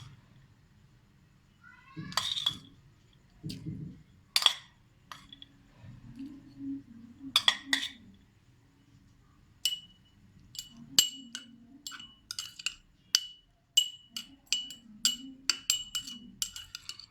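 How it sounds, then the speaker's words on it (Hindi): Spoonfuls of rice added to a dish of matanjen rice, a Ramadan recipe, giving sharp dry clinks and scattered ticking of grains against metal, sparse at first and then a quicker run of close, crisp taps. "अब इसमें हम चावल डाल देंगे अपने, तकरीबन 2 टेबलस्पून चावलों के डाल देने हैं"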